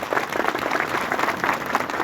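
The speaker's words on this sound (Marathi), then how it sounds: "सगळ्यांनी मोठ्या गजर टाळ्या वाजवायच्या" A brief burst of audience applause welcoming an honoured guest at a devotional gathering, dense clapping from a crowd at moderate loudness.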